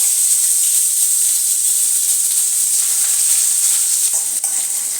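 Constant sizzling hiss of onions frying in hot oil, close and fairly loud, with faint stirring scrapes near the end.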